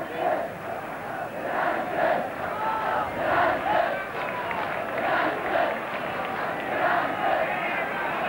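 An enormous football crowd of almost 60,000 chants United continuously at a 1968 UEFA Cup match between Newcastle and Ujpest, a rhythmic, repeated roar with a distant, reverberant mass of voices.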